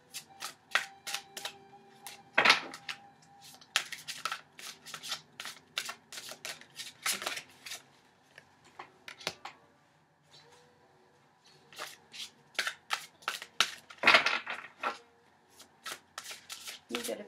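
Tarot cards being shuffled by hand in repeated crisp riffling bursts with short pauses between, close and clear, with a person talking softly in between.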